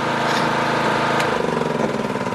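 A motor-driven water pump tied to a ladder so its intake reaches the bottom of a tank runs with a steady, close mechanical drone and a slightly uneven, chugging pulse, alone with no voices.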